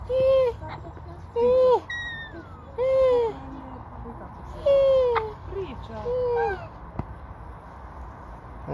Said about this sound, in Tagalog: ito yata yung nagsasalitang parrot